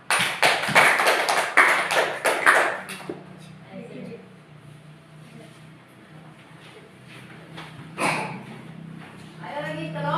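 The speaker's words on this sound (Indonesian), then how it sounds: "Ayo kasih aplaus untuk kelompok" Applause for a student group in a classroom lesson, a burst of quick, close hand claps for about three seconds that fades into quiet room noise, followed by a voice speaking.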